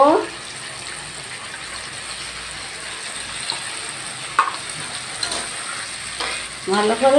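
Spice paste being sautéed and stirred with potatoes in a pan for a Bengali pabda fish oil-chilli curry, a steady low sizzle with scraping stir strokes, while someone talks over it now and then.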